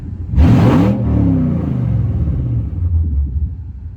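A car engine revs hard in a loud burst, then settles into a lower rumbling drone that fades a little toward the end.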